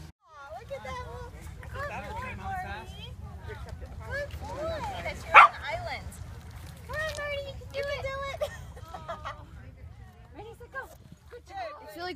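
Dogs play and bark at a dog beach in northern Colorado, scattered close barks and yips over a steady low wash of surf and wind, with one sharp louder burst midway, while people talk throughout.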